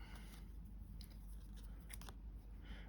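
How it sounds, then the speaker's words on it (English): Scissors cut a square out of paper for a miniature apartment build, a few quiet, crisp snips spread over a couple of seconds with no voices. "I'm going to do it with scissors"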